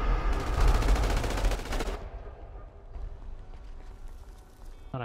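Rapid automatic gunfire in GTA 5, a loud dense burst of shots for about two seconds, then quieter scattered game sounds.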